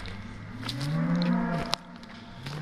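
Cattle being herded through a forest camp area near Munds Park in the Coconino National Forest give a long, loud, low moo that rises and falls, followed by a sharp knock and another call starting toward the end.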